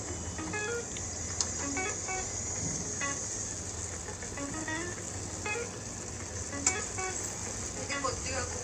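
Spice paste frying over a high flame in a pot for mutton curry, giving a steady close hiss with occasional spatters and stirring scrapes, while a voice talks faintly in the background.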